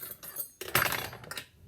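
A fork clinks and scrapes against a glass bowl of eggs, a few sharp clatters and a brief rattling burst, close by and alone.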